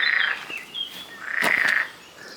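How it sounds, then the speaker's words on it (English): Loud, close frog croaks come in two bursts, each a rasping trill lasting about a third of a second to half a second, separated by a quieter stretch, set outdoors beside an abandoned cottage on a hot day. "It's too hot for the frog."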